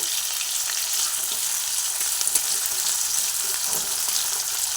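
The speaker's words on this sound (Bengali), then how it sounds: "সেই সময় আমি কুচানো পেঁয়াজ এর মধ্যে দিয়ে দিলাম পেঁয়াজটাকে আমি ভেজে নেব" Onions sizzle steadily in hot oil, a constant bright hiss with faint scraping from stirring now and then.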